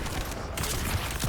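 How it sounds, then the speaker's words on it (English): Hand cannon fire in the video game The First Descendant: dense, rapid gunshot bursts with a continuous rattling, crackling texture, fairly loud and with no speech over it. "This was the best general purpose hand cannon that I can find."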